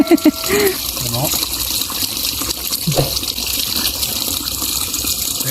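River water rushes and gushes steadily as people wade across a rural river, broadband flow sounding close and continuous, with brief voices near the start.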